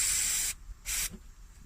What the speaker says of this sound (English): bit of penetrating oil on these bolts and that one there